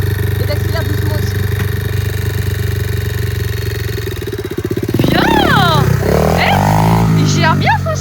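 A motocross motorcycle idles with a steady low throb under coaching voices, then its engine note shifts and climbs as Cody rides off, with more talk over the revving.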